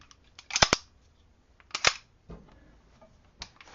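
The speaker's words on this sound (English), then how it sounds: "don't forget the magazine. Insert it into the gun." A gun magazine is pushed into a firearm during cleaning, giving two sharp metallic clicks close together, then a second crisp click and a few softer handling knocks, with no talk.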